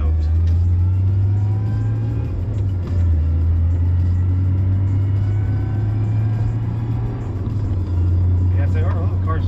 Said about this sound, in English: our little car's driving great